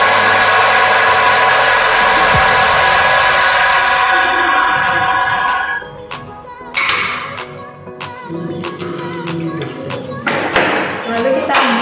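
A ticker timer rattles in a steady buzz once the power supply is switched on, set up with a trolley for a Newton's second law experiment. Then come sharp taps and thuds as the setup is handled, with some talk in the background.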